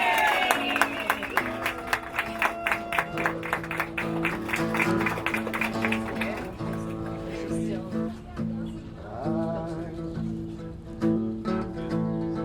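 Wedding guests at a Central Park ceremony cheer and clap for the happy couple, a steady crowd roar under a melodic tune that plays throughout, with a voice speaking over it.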